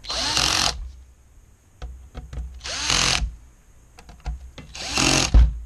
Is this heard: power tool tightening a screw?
yes